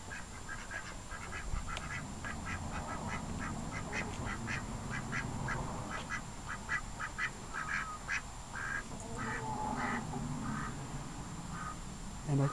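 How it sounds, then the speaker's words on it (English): Ducks and chickens in a neighbour's backyard, with repeated quacks and clucks coming at a steady, uneven pace over a low outdoor hum, moderately close and fairly loud. "chickens and ducks coming through my backyard"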